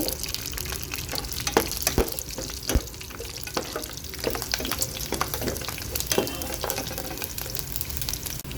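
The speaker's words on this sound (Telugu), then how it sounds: "జీలకర్ర ఆవాలు ఎండు మిరపకాయ పప్పు కోసం వేసుకోవాలండి ఇప్పుడు ఇప్పుడు వెల్లుల్లిపాయలు వేసుకోవాలి" Cumin, mustard seeds, urad dal, dried chilli and garlic fry in hot oil with a dense, crackling sizzle, punctuated by pops and spatters throughout.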